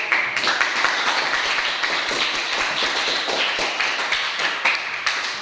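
Students in a classroom clap together, a lively patter of individual close hand claps in an uneven rhythm, moderately loud with no talking over it.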